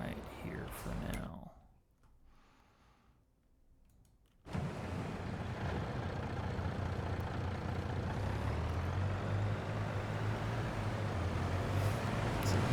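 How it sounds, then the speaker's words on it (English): Tractor engine in the video game Farming Simulator 22, a low steady diesel rumble that drops quiet briefly, then kicks back in loud and sustained as the vehicle drives. "And then I'll just pull this tractor in right here for now."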